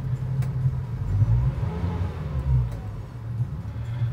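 A 2019 Suzuki DF150 APX outboard engine runs at around 1200 RPM on a powerboat, a steady low, even rumble that stays fairly constant throughout, with no talk.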